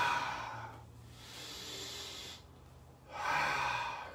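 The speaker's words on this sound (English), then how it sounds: "Breathing." Deep, slow breaths drawn in and released during a qigong exercise, two long airy exhalations heard close and clear with no speech over them.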